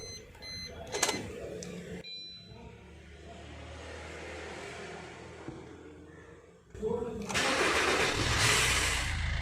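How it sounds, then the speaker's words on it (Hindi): Suzuki Ertiga car engine cranking and firing up after being switched off, a brief starter burst followed by a low steady idle, then rising revs near the end, with faint background noise. "गाड़ी को एक बार बंद करके फिर से चालू करके देखते हैं।"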